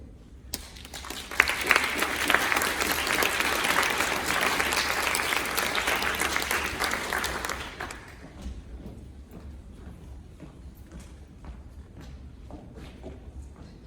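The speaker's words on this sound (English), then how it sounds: "Can we give that another round of applause?" Audience applause at a project forum, a dense burst of clapping for about seven seconds that fades to a few scattered claps.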